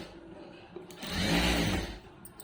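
A sewing machine stitches piping on a princess-cut blouse using a normal presser foot, a single smooth whirring burst that swells and fades over about a second amid quiet room noise.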